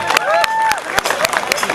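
Audience at a Bihu husori performance by Tezpur University, applauding in sharp bursts of clapping mixed with cheers and crowd chatter, as performers are welcomed to the stage.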